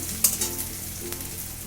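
Chopped onion drops into a pan of frying garlic, a brief clatter giving way to a dense, steady sizzle close by, with no speech.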